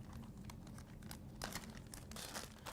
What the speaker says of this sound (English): We're going to make one slit up the middle like this. And from there, we will place them into this plastic bag.